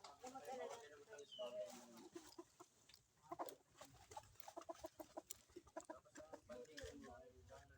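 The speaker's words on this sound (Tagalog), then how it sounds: "May manok." Chickens cluck and murmur in a busy outdoor scene, mixed with people talking and faint background noise.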